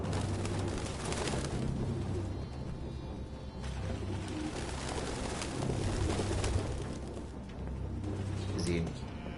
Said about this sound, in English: All these goddamn birds.